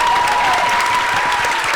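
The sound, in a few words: audience clapping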